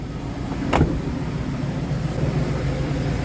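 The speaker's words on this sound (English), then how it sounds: "So let's try to drive this truck on the road." A 2000 GMC Sierra 2500 HD pickup drives on the road, its steady engine and road rumble droning throughout with a brief louder swell near the start.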